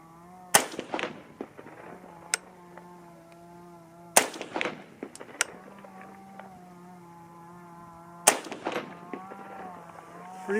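Three sharp 6.5 Grendel AR-15 rifle shots crack out at even intervals of about four seconds, each followed by a brief ringing echo over a steady insect-like drone in the background.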